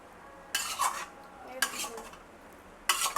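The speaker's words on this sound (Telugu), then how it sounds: "వేసుకుని చింతపండు గుజ్జు ఇలా అన్నంలోకి ట్రాన్స్ఫర్ చేసుకుందాం." Tamarind pulp scraped into cooked rice for pulihora and mixed with a spoon, giving three short bursts of scraping and clinking against the vessel separated by quiet gaps, with no talking.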